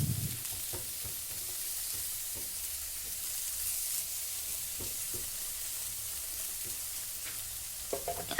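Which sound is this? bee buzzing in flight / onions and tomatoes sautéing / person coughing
onions and tomatoes sautéing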